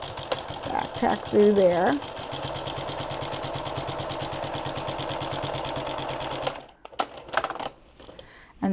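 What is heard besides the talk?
sewing machine stitching a seam with back tack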